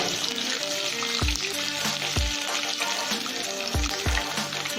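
Curry leaves and urad dal sizzle in hot oil for pulicha keerai, a steady close frying hiss with a few low thumps and soft background music.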